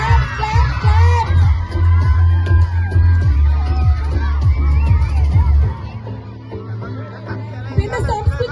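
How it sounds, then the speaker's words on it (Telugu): A crowd cheers, whoops and claps for a performer dressed as Santa Claus at a costume event, loud and close with children's shouts and babble mixed in, the noise thinning toward the end. "Give a big clap. Clap clap clap."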